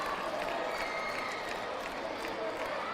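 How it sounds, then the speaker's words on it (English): Tennis crowd at a Tennis Premier League match applauding a crisp backhand, a steady wash of clapping and crowd noise held at moderate loudness throughout with no pause. "Earns the applause from Mr. Kapoor."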